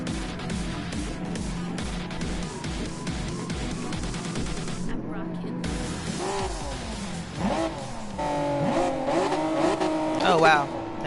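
Honda NSX race car in a Tokyo South Outer Loop racing game, engine revving hard and rising through gears with tire squeal near the end, loud and continuous under a talking voice.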